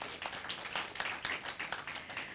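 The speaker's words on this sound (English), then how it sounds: "Round of applause for him." Audience at a Caribbean inter-secondary school debate applauds a speaker after closing remarks, a brief, moderately faint burst of scattered hand clapping without talk.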